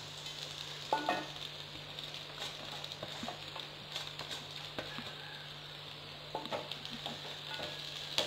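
Onion sizzles softly as it sautés with grated carrot in a pan, making a low, steady crackle. Occasional clicks and scrapes from stirring sit over a faint background hum.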